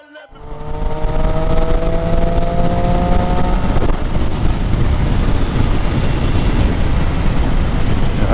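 A Triumph Street Triple R motorcycle rides along with a steady, loud engine drone and wind rush that holds continuous and close throughout, rising from a brief rev at the start.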